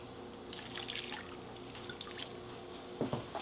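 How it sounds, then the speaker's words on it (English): About half a cup of water is poured into seasoned ground beef in a pan, a soft splashing trickle that runs for a couple of seconds and then ends with a few louder splashes. "To this, I am going to add about a half a cup of water."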